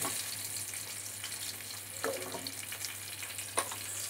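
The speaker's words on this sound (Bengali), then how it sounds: "এবার আমি মাছটা ভেজে নিচ্ছি" Khaira fish frying in oil in a kadai gives a soft, steady sizzle with a few faint clinks near the end, heard alone without talk.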